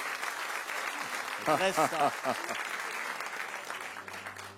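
Audience applause at the Cologne Hänneschen puppet theatre during a carnival show, steady clapping from a crowd, with a voice speaking briefly over it in the middle.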